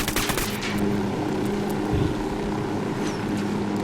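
A helicopter from the game Ghost Recon Wildlands thrums steadily overhead, with sharp bursts of gunfire early on and a constant rotor rumble throughout, no talking.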